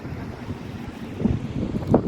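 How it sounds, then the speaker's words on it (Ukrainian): Steady wind near a waterfall buffets the microphone, a low continuous rushing roar with gusts swelling toward the end. "Сьогодні вітряно"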